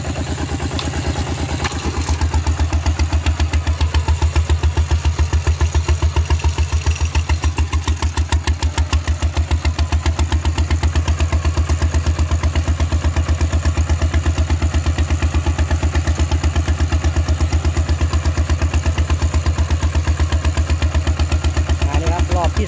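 Steel-wheeled tractor with a loud exhaust pipe, plowing a previously plowed rice field shallowly, runs continuously at a steady throbbing low-pitched beat, loud and close, after a brief quieter start, with no talk over it.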